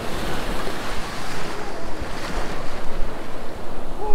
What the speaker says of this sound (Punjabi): ਐਕਚੁਅਲ ਦੇ ਵਿੱਚ ਅੱਜ ਵੇਵਸ ਬਹੁਤ ਜ਼ਿਆਦਾ ਨੇ